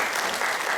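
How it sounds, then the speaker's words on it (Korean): Brief burst of congregational applause during a Sunday church service, dense clapping from many people that fills the moment without pause. "격려의 박수 주셨으면 좋겠어요"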